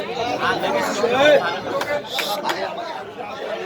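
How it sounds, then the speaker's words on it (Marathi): A festive crowd at an Ambedkar Jayanti celebration in Satpur fills the air with loud, steady babble and overlapping voices, with occasional brighter shouts rising above the din. "आपण जल्लोष बघताय"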